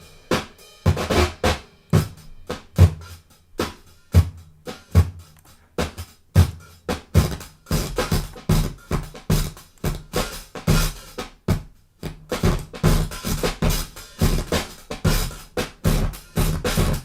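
A bizarre electro sound comes from the YHighpass audio plugin, heard as a choppy stream of dense, punchy rhythmic bursts with sharp gaps, loud and steady throughout.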